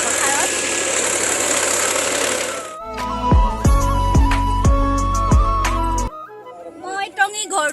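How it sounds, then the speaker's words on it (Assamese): A tractor ploughing a rice paddy field runs with a rough, steady engine drone through the first few seconds, then rhythmic mechanical thumps and clanks take over. Voices talk over it near the end. "এপিনে চাওক ট্ৰেক্টৰ হাল বাইছে আমাৰ পথাৰত।"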